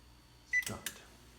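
A kitchen oven's control panel beeps as the oven is started: one short electronic tone followed by two quick clicky chirps, faint and alone in a quiet room.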